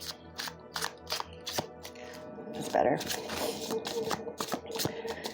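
Tarot cards are shuffled by hand in a series of soft, crisp riffles and taps, close and fairly quiet, with someone talking briefly in between.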